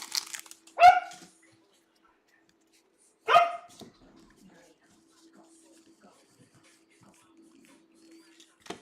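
A puppy barks twice, single sharp yips a few seconds apart, close and clear against an otherwise quiet room with a faint hum.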